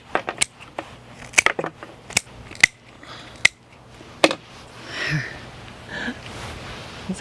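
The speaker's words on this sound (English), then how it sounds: "all I brought was my little snips, so let's see how I'm gonna" Small garden snips cut flower stems with a series of crisp, irregular close snips and clicks, followed by softer rustling of stems and leaves.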